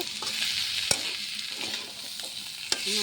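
Vegetable chorchori with leaves stir-fries in a pan, a continuous bright sizzle with a couple of sharp scraping strokes from a spatula.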